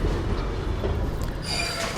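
A train rolls into a station in the video game Dishonored, Flooded District, with a continuous heavy rail rumble and a high metallic wheel squeal rising in the second half, no voices.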